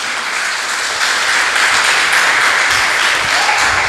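A church congregation applauds steadily during a Pentecostal worship service, dense sustained clapping filling the room at a loud, even level without pause.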